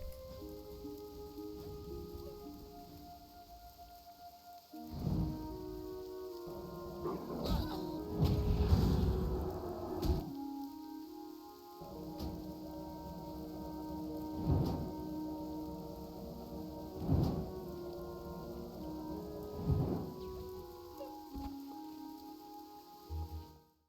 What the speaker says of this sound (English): Bit of rain, very grey.